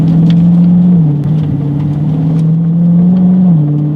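A 2016 Dodge Charger R/T Scat Pack engine holds a steady, loud drone close by, with small pitch dips as paddle shifts step between gears and no voices over it.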